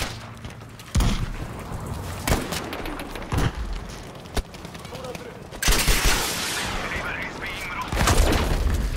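Rifle fire from an M1 Garand in the video game Battlefield 5: sharp, loud shots at uneven intervals over a busy combat backdrop of distant gunfire and booms, with a voice talking between shots.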